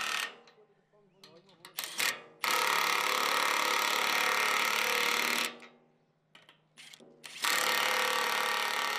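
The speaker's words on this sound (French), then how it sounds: "Il ne reste plus qu'à serrer les écrous avec une clé à choc" Impact wrench tightening nuts on concrete anchor bolts that fix Z profiles, giving two long loud rattling bursts separated by short quieter gaps with brief clicks.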